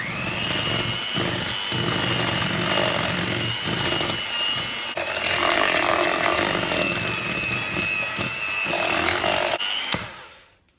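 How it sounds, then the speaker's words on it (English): An electric whisk mixes cake batter for rusks, made with flour, baking powder and vanilla essence. Its continuous motor whir rises and dips as it moves through the batter, then cuts off abruptly at the end. "Add in the vanilla essence and once again whisk it all together."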